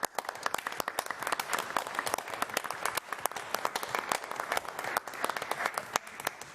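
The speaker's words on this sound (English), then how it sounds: "I've never in my life been applauded so much." A room at a city council budget meeting breaks into applause for the speaker. The clapping is thick and continuous with sharp individual claps standing out, and it stays lively from start to finish.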